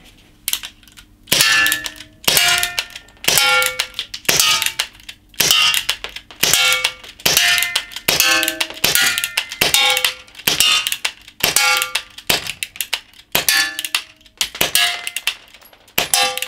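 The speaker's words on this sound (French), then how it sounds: "on attaque le tir rapide en simple action" Ekol ES P66 CO2 air pistol in rapid single-action fire, about sixteen sharp metallic shots each ringing off a steel target, loud and evenly spaced with no talk.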